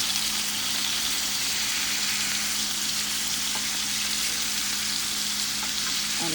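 Large Egyptian kofta sizzling steadily in a hot pan as they are flipped to brown on all sides; a dense, even frying hiss runs unbroken throughout with a faint low hum beneath.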